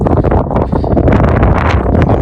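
Steady roaring wind buffets the microphone, a continuous low rumble with gusty surges throughout.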